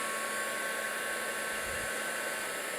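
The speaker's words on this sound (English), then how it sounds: "Bring in our embossing tool, and we'll give it a quick melt." An embossing heat tool blows a steady, loud, even whir as it melts embossing powder on a festive snowflake Christmas card, with no voice over it.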